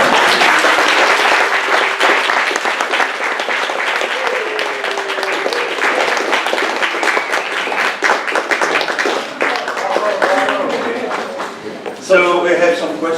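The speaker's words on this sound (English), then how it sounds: "Larry gets applause." A roomful of people at a celebratory lecture gathering break into sustained, dense applause for Larry, steady clapping filling the space, with a voice speaking near the end.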